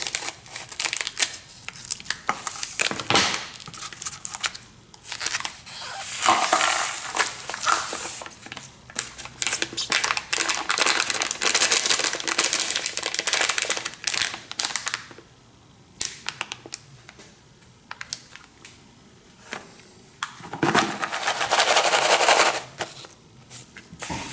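A bag of gold paydirt, rainbow-coloured material mixed with gemstones, being cut open: long stretches of crinkly plastic rustling and crunching, loud and close, with brief pauses between bursts.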